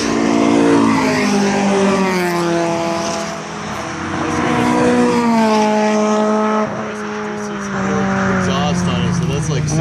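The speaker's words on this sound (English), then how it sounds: "Exhaust on it, so that's like significantly louder than the stock exhaust that I have." Mazda RX-7 fitted with a loud aftermarket exhaust revs hard, its droning engine note climbing and falling in pitch across several pulls, loud and close.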